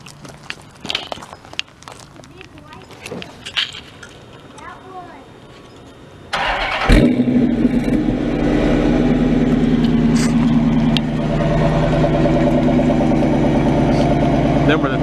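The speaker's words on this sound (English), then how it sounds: "Go ahead and do a start here, that way you can hear the exhaust." Footsteps and small movements come first, then a 2012 Dodge Charger R/T's V8 Hemi engine cranks and fires up with a loud rev before settling into a deep, rumbling idle through non-stock exhaust.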